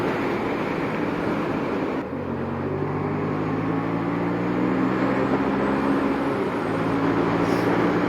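A Yamaha MT-07 motorcycle engine pulls uphill in fifth gear at highway speed, a steady loud drone with a rising tone, mixed with wind rush and no talk.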